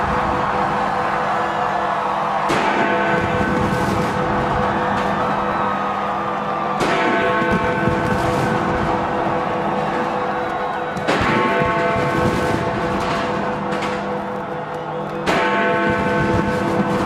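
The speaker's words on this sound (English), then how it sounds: "let us begin by ringing the historic bell of Balziero to symbolize the commencement of the second partial tally" The historic bell of Balziero tolls loudly at an election results event, striking about four times at regular intervals. Each stroke rings on with a long, shimmering sustain.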